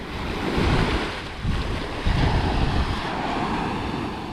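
Sea waves wash onto Martil beach near Tetouan, a broad continuous surf roar with rising and falling surges and wind buffeting the microphone, no talking.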